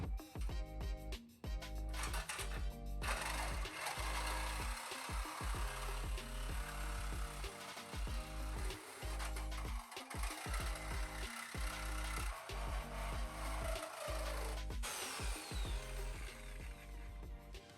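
A saw grinds steadily through a high-strength steel bar for a car bash bar, a continuous harsh rasping drone with brief dips and rhythmic strokes throughout.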